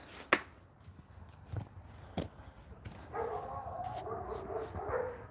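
On a farm at night, a dog near the chicken coop gives a few short, sharp barks spaced apart, then a softer stretch of whining and rustling follows close by.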